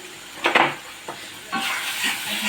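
Spice paste with salt frying in a pan, a soft sizzle under a few scraping stirs of a spoon, the hiss swelling after the last stir; no speech.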